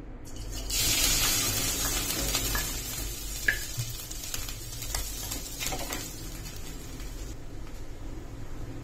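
Coconut and poppy seeds roasting in a spoonful of ghee in a pan for ukdiche rava modak give a steady, close sizzle with soft stirring scrapes throughout.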